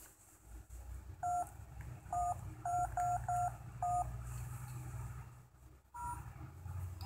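A toy telephone beeps as its buttons are pressed, giving a run of short, bright electronic tones in irregular pairs and singles over a low background rumble.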